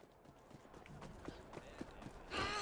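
Faint, quick hoofbeats of a galloping horse in the video game Assassin's Creed Syndicate on a Victorian London street, a run of soft thuds drawing nearer before a louder burst at the end.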